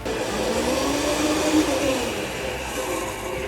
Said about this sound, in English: I'm gonna start the blender here.